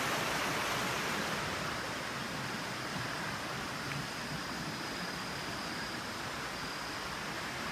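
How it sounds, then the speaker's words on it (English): A flowing creek or river on a Kauai hike in Hawaii, a steady, broadband rush of moving water that stays constant and close throughout with no voices. "Beautiful little bend in the creek or river here."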